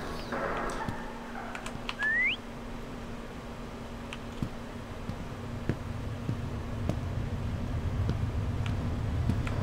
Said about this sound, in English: I gotta whistle, and if they whistle back,